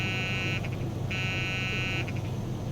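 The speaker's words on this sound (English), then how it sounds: "that noise is to let you know to lower your gear" Landing gear warning buzzer in a Beechcraft 18 in MSFS 2020: a steady electronic tone sounding twice, a short burst then a longer one, over a constant low engine drone in the cockpit.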